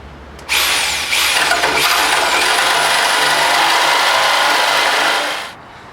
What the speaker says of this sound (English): So I made the cut with the jigsaw.